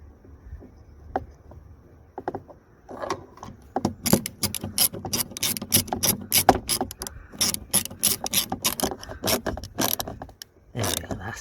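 A ratchet tightens a bolt on a Mercedes-Benz W245 interior door handle in a rapid series of sharp clicks, sparse at first and then dense and rhythmic, close up with brief pauses between bursts.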